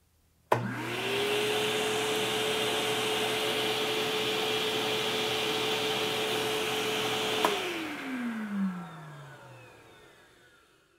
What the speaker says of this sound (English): from here we're going to turn the DeWalt vacuum on and see how loud that is